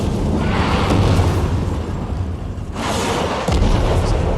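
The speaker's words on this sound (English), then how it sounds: "We're still being bombarded from orbit." Orbital bombardment in Warframe, loud rumbling explosions rolling continuously with a sharp fresh blast near the end, no talking.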